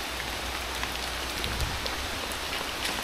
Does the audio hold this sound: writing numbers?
no